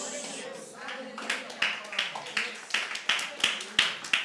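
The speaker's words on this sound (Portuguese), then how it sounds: "Esse aplauso foi para quem?" A congregation at a Sunday morning church service claps in a steady, rhythmic beat that starts softly and grows to about a dozen sharp, evenly spaced claps, with voices murmuring underneath.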